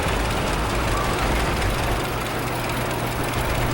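A vintage model G tractor engine runs steadily nearby, a continuous low rumble with a throbbing low-end pulse and broad mechanical noise, holding an even level throughout with no talk.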